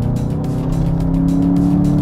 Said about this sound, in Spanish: Les voy a mostrar, por ejemplo, la aceleración en modo normal.